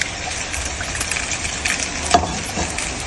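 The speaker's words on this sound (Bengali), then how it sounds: "এখন আমি এইখানে ডিমটার জন্য যে মশলাটা ওটা ফ্রাই করবো" Onion, chilli and garlic masala for an egg curry frying in a pan, a steady close hiss and crackle of sizzling oil with one brief louder pop.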